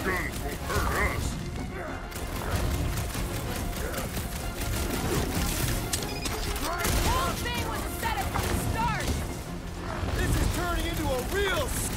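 Weapon fire and mechanical clatter in Marvel's Guardians of the Galaxy run through a chaotic fight with continuous bangs and impacts, heavily overlapped by voices talking and shouting.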